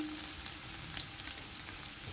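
Chopped onions sizzle and fry in a pan for deer chili, a steady close crackling hiss with light stirring.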